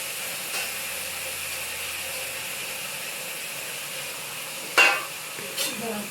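Mutton dropped into a pan of browned onions frying in oil gives a steady, close sizzle, with a couple of short scraping clatters near the end.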